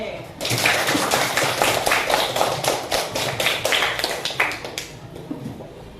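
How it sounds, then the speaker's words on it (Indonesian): A class of schoolchildren claps rhythmically in unison for several seconds in a classroom, close and fairly loud, before the clapping stops abruptly. "tepuk tangan untuk kelas 4B"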